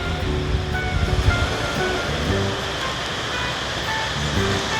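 Sea waves wash onto a southern Thai beach with a continuous surf roar and soft surges, close and fairly loud, with a little wind in the background.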